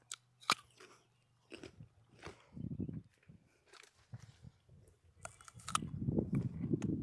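Close crunchy bites and chewing of a fresh ber (Indian jujube) fruit from an organic orchard, irregular wet crunches and mastication bursts growing louder toward the end, with little else around.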